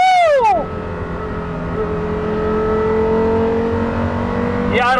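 A Porsche Carrera GT's high-revving engine wails in rising sweeps, then settles into a sustained, loud, even drone. Another sharp rev-up closes the passage, all close and with no speech over it.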